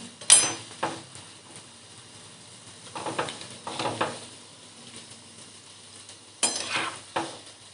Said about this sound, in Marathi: दुसरी बॅच पण मी त्याच पद्धतीने तळून घेणार आहे